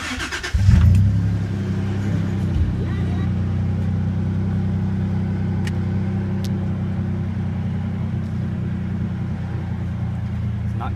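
A Toyota T100 with a 3.4 liter engine and straight-piped exhaust gives a loud, sharp burst of revving near the start, then settles into a deep, steady, rumbling idle close by.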